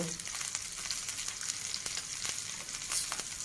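Ginger and garlic, salted, frying in a pan for a sesame seed chutney, giving a steady close sizzle with a few sharper crackles and pops, no talking.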